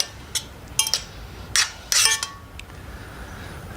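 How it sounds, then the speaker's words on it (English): Peas stirred in a pan with melting butter, a few sharp metallic clinks and scrapes of a utensil against the pan, spaced irregularly over a quiet background, with no talking. "Mix that around just until that butter melts"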